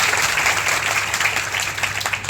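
An audience at a Shantikunj camp gathering gives a round of applause, dense continuous clapping from many hands filling the hall at steady loudness.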